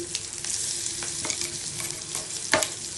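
Spice paste for prawn bharta hits a hot wok with a steady loud sizzle and a few sharp scraping stirs, one louder clatter near the end, no voices.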